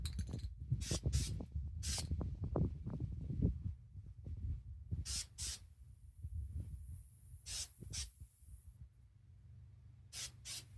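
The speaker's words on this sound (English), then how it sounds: "It doesn't spray very good when I have it upside down." A spray paint can hisses in short bursts while a rifle is painted outdoors in the wind, several brief sprays with gaps between them over a low wind rumble.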